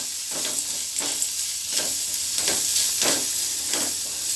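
Small chopped coconut pieces fry in a pan for perandai chutney. A soft, continuous sizzle is broken by regular stirring swishes about every two-thirds of a second, close and moderately loud, with no one talking.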